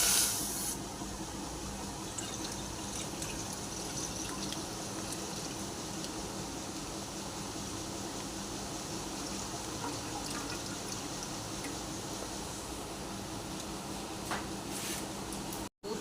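Milk heats in a pan toward a boil for a palm-fruit chushi pitha dessert, giving off a faint, steady bubbling hiss that runs throughout before a short click at the end.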